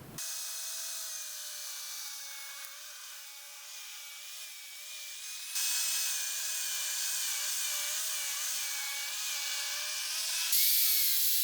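Power saw cutting 3/4 inch plywood side walls for a tool cabinet: a steady, high-pitched motor whine held for over ten seconds, rising in intensity partway through, with no talking.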